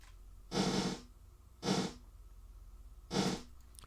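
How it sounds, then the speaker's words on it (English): Three hits each bloom into a wash of dense, fully wet reverb that cuts off abruptly, spaced about a second apart over low hum. "You're just going to hear the nonlinear reverb"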